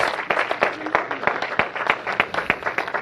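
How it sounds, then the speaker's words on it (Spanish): Steady applause from a church congregation, with claps rattling in a brisk, continuous rhythm throughout. "Denle un fuerte aplauso"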